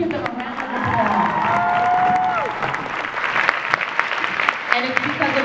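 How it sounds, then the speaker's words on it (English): Audience applause and cheering for performers at a proclamation and presentation event, a dense crowd clapping with occasional whoops, steady and fairly loud throughout, with a faint voice or tone running underneath. "Let's give them a round of applause."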